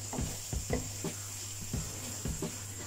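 Curry ingredients cook in a pan with a soft, steady sizzle under a constant hum, broken by several scraping stirs and light knocks at irregular intervals, close by and without speech.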